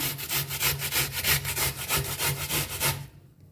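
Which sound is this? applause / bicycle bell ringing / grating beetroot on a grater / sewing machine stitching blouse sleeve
grating beetroot on a grater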